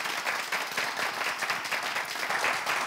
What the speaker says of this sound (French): toujours sous les applaudissements